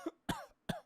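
A voice imitates a child coughing, three short harsh bursts in quick succession, close and alone.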